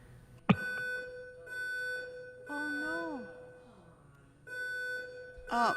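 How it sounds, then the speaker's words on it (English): A fire alarm goes off in a city council chamber during a council meeting, sounding as repeated electronic beeping tones in steady pulses. Voices and room noise are heard faintly underneath. "appears that the fire alarm's gone off here in council chambers"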